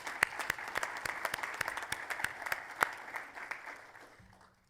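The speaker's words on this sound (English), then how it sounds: "that, I think, deserves a round of applause to everybody" A modest crowd claps at a realtors' annual membership meeting, distinct individual claps in a fairly sparse rhythm that thin out and fade over the last second.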